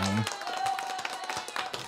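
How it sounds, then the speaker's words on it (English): A short round of clapping from a sports talk show host, a few sharp close claps with a faint steady tone and a voice in the background. "Let me go ahead and get him that round of applause"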